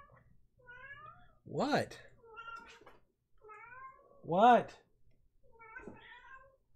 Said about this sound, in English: it's not even the cat that I thought it was